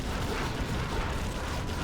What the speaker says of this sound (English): And they've got this thing called a pile driver.